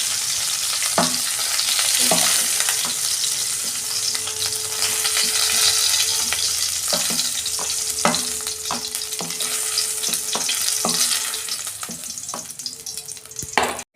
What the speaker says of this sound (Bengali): দেখুন বন্ধুরা, আমার ফুলকপি লাল লাল করে ভাজা হয়ে গেছে।